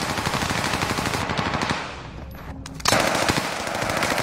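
Rapid automatic gunfire from a video game fills the first half, with dense bursts that fade into a quieter lull before the shooting resumes loudly near the end.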